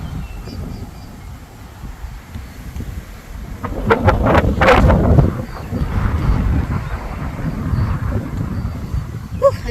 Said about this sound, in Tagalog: Malamig yung hangin, mahangin na.